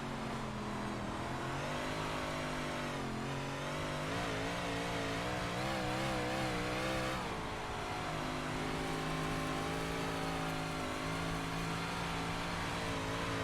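Big block dirt race cars in iRacing at Bristol dirt rev loudly, their engine notes rising and falling in pitch through throttle blips in a continuous, close roar.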